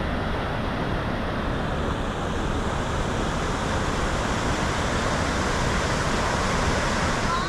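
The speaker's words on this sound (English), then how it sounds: "Very windy." Strong wind buffets the microphone outdoors on an RV road trip toward Dawson Creek, a loud, continuous rumbling roar with no letup.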